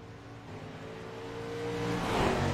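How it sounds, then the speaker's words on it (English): Late model race cars in the iRacing video game circle the half-mile Eldora Speedway dirt track, a steady droning engine note that slowly swells louder as the cars draw nearer. "Like cars already rolling around the racetrack"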